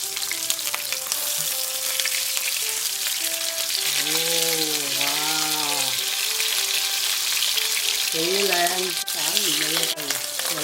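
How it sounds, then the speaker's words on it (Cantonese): A thick carp fillet frying in ginger-scented oil in a flat pan gives a steady crackling sizzle, with a voice or melodic tones rising briefly over it twice. "一邊嘅魚呢都要大概煎佢3分鐘"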